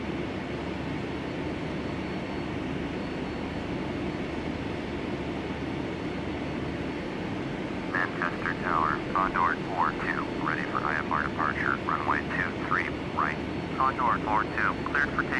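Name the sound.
QualityWings 757-300 taking off, video game flight simulator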